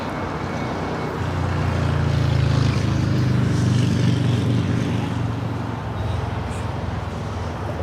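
Japan Airlines Boeing 787-9 Dreamliner jet taking off from the south side at LAX, a broad distant rumble swelling to a peak and slowly easing away.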